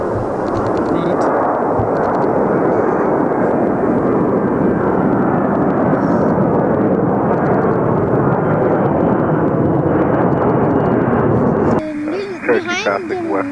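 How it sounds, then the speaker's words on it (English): A jet airliner near Edmonton airport roars steadily and loudly for most of the stretch, a dense continuous engine rumble that suddenly drops away near the end, where voices and other closer sounds take over. "This should come close to us as well, this plane."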